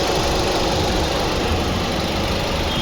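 A Maruti Suzuki Swift engine idles steadily with the air conditioning running, a close, even mechanical hum that holds unchanged throughout with no voices over it.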